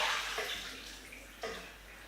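Water from a pan of cooked broccoli drained off in a home kitchen while making a chicken balti curry: a steady splashing rush throughout, loudest at the start, with a couple of brief surges, no talking.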